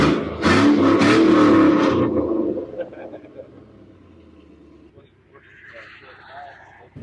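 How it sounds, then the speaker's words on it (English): Giveaway pickup truck engine revving loudly up close for about two seconds, then settling to a lower idle rumble while people talk nearby. "Rev it if you want, bro."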